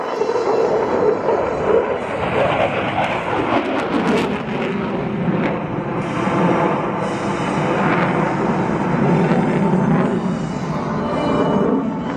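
A loud, continuous jet roar fills the air at an airshow, a broad rushing thunder of an F-15C Eagle's afterburner that swells and holds steadily as the aircraft passes.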